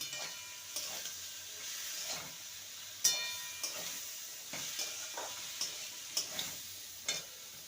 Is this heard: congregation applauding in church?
no